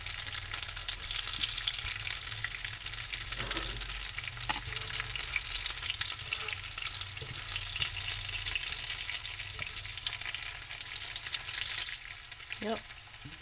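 Taquitos frying in a pan give a steady broadband sizzle from start to finish, with a few faint clinks and brief movement sounds, close and without any talk.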